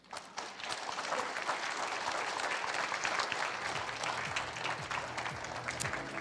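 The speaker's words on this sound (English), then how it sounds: "Let's give them one more round of applause." A seated audience at a centennial celebration event breaks into sustained applause, dense steady clapping that fills the room at even loudness from start to finish, with a faint cheer mixed in.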